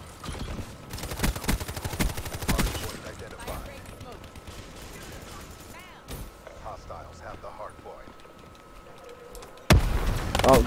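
Gunfire in the video game Black Ops 3, rapid automatic bursts at the start and again at the end with a quieter stretch between, loud and close, with a player talking over it.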